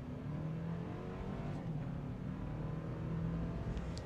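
A Toyota Land Cruiser accelerates off the line, its 325-horsepower engine giving a steady, moderately quiet drone from inside the cabin with no pause.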